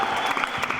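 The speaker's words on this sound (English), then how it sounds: "So if we get another round of applause for them" Audience applause at an alumni reunion closing reception, a brief dense burst of clapping from a room of people with some murmuring voices mixed in.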